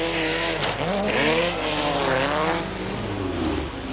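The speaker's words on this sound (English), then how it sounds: "the leading cars lapped" Race cars lap a circuit at a 1991 motor race with driver changeovers, engines roaring loud and continuous with rising and falling pitch sweeps as cars pass close by, no talk.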